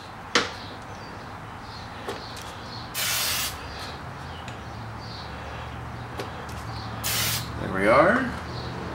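Two short aerosol bursts of Fluid Film sprayed onto the front wheel hub of a 2003 Chrysler Sebring Coupe, close sharp hisses separated by a few seconds amid light garage clatter.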